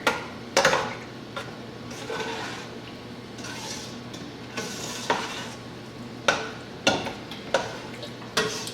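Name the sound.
stirring ranch seasoning mix into taco soup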